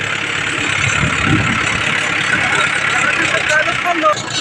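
A tractor engine runs steadily while pulling a seed drill that is sowing maize, a close rumbling drone with a person speaking over it.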